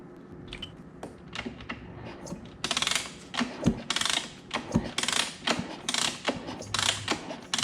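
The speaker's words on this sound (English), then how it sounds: "then I'm going to rotate the crank to see if it's rubbing on the inside of this cover" Hand-turned crank of a Husqvarna TC 85 engine after a flywheel weight install gives a run of small clicking, ratcheting mechanical ticks, close and fairly quiet, growing busier and more rhythmic in the second half with no talk.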